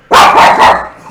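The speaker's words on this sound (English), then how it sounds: "Bonkers dog." A dog gives one loud, close bark with a quick double yelp in it, sharp and alone.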